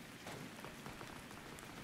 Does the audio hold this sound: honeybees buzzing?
no